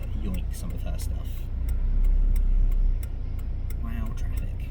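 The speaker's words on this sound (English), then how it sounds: "Wow, traffic." Road traffic passing, a steady low rumble of cars heard from inside a vehicle that swells as one goes by, with a faint ticking running throughout.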